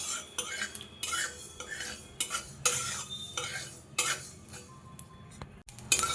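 Mustard seeds and whole cumin being dry-roasted in a hot kadai on a gas stove, with a spatula scraping and stirring in uneven strokes and a faint crackle underneath, close and without talk.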